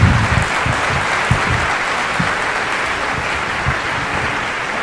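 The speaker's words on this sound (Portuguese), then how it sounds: "Uma grande salva de palmas para o Luís." Audience applause fills an auditorium at a spoken-word poetry final, a dense, steady clapping from a large crowd that carries on loud and unbroken with no voices over it.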